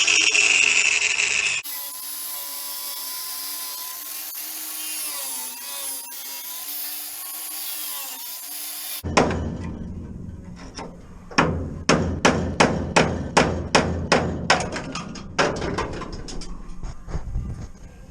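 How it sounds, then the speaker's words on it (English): An angle grinder with a cutting disc slices into a rusty floor panel of a classic Mini, a loud high whine at first, then a long rough grinding passage, ending in a series of sharp rhythmic knocks and scrapes. "we're just going to get the grinder in there and take a little cut"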